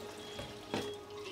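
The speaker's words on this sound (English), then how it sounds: "And immediately it is throwing the water." Water streaming from the outlet pipe of an Enagic Kangen water ionizer machine, a soft steady trickling hiss with a brief splashy surge, faint and close.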